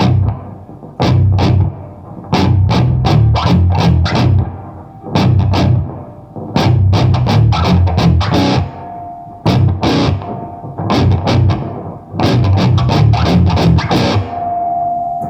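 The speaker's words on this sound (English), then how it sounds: "with the treble pickup going full blast, you can do stuff like" Heavily distorted Schecter Hellraiser Diamond Series electric guitar on the treble pickup playing a choppy, chugging riff in bursts, loud and close, with brief pauses between phrases and a sustained note ringing near the end.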